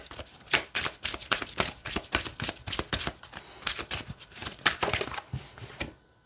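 A deck of Beltane oracle cards being shuffled by hand, with a steady run of crisp, close riffling flutters that repeat quickly for about six seconds before stopping abruptly.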